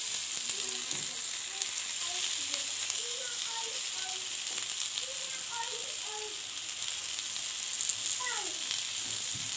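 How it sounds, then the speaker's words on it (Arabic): Chicken kofta sizzles on a grill as it is turned, with a steady, fairly quiet hiss and occasional scraping clicks. Someone talks briefly over the cooking. "انا هفضل اقلب فيها في كل الجناب علشان خاطر تحمر من الجهات كلها"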